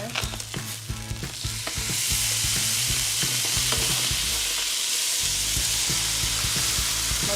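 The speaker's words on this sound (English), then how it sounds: "So I'm gonna flip the fish." Tilapia fillets fry in a pan with oil, a steady close sizzle and crackle that swells louder after the fish is flipped, with a few scrapes of a utensil against the pan.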